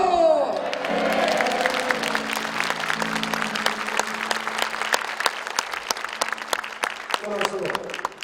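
Church congregation applauding together, a dense, steady wash of clapping from a large crowd that carries on for several seconds after a voice fades out at the start.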